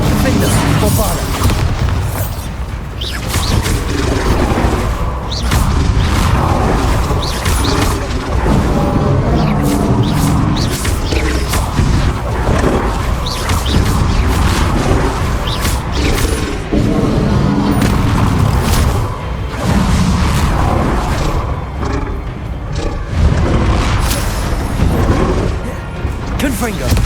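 Spell explosions in Hogwarts Legacy combat, repeated booming blasts and crashes in a dense, continuous stream of fight effects.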